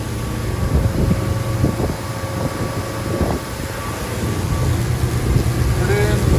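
Volvo Penta D4 260HP diesel on a Doral Monticello boat running up toward 3500 RPM at full-speed, a steady low engine drone with wind and water rush that builds in loudness toward the end, with faint talk underneath.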